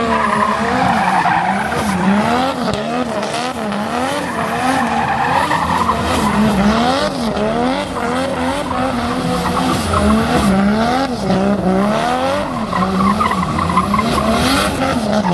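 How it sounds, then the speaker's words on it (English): Drift taxi cars run by Garasi Drift at a car show skid continuously, tires squealing in long wavering wails over loud revving engines, the squeal rising and falling in steady cycles throughout. "there are 2 drift taxis operated by Garasi Drift that are giving taxi rides to all the participants over here"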